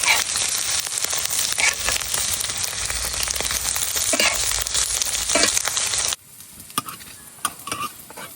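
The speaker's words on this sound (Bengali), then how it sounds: "এখন এই ডিমটারে একটু ভালো মতো ভাজে নিলাম" Egg pieces frying in a kadai for an egg and potato dal give off a loud, dense, continuous sizzle. It cuts off abruptly after about six seconds, leaving only faint clinks and soft crackles.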